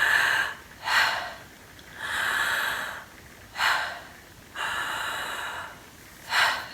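A person demonstrates shallow chest breathing, alternating quick sharp inhales with longer, softer breathy exhales in a steady rhythm, close and fairly quiet with no talking.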